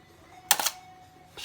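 A Mamiya RB67 Pro S medium-format camera fires its shutter once: a single sharp, close mechanical clack in an otherwise quiet room.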